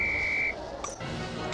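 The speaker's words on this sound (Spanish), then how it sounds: "Al pitido del silbato." A shrill referee-style whistle sounds in the Harry Potter PS1 game, one steady half-second blast at the start of a flying hoop trial, followed by quieter game sounds.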